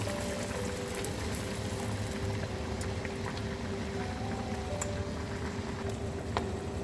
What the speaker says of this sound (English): so I just want it to boil up a little